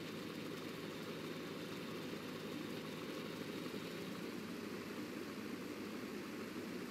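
Steady, unbroken engine drone of a light aircraft taxiing slowly in Microsoft Flight Simulator X, a dense constant hum with no pauses or voices.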